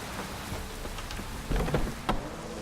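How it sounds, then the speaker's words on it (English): Steady rain pours down in the video game The Witcher 3 with a dense hiss, a few heavier splashes and thumps standing out near the end. "Proper downpour this is."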